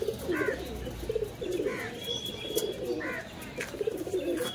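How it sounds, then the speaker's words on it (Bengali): Teddy pigeons coo in a nearby loft, a soft throaty call repeating in a steady rhythm roughly every second and a half, with faint chirps and no talking. "এখানে একটা টেডি কবুতরের বাচ্চা আছে"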